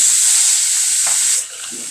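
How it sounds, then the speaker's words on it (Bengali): Spice paste of ginger-garlic, salt, coriander, turmeric and chilli powder stir-fried with a little water in a pan for potato curry: a steady close bubbling sizzle with faint stirring scrapes, easing quieter near the end. "পানি দিয়ে মশলাটা সুন্দর করে কষাই নেব"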